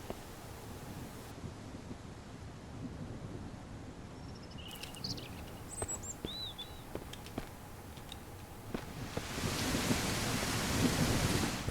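In Mist Survival, steady rain hisses over a low rumbling thunder bed, with a few brief chirping tones in the middle and the downpour swelling louder toward the end.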